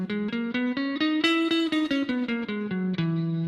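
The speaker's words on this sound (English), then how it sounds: "if you want to play E Lydian, all you're going to do is raise the fourth note." Guitar plays an E Lydian scale through an effects unit with light distortion, single picked notes rising then descending in an even rhythm, clear and up close with no talking.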